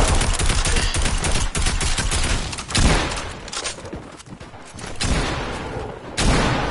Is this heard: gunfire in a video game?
yes